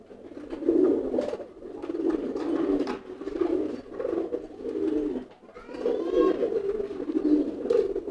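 Pigeons coo close by in repeated low, throaty phrases, several calls following one another with short pauses between them.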